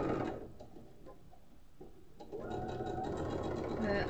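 A sewing machine quilts through two layers of wadding, its rapid needle chatter running steadily and close, pausing briefly in the middle before resuming, with a voice speaking over it.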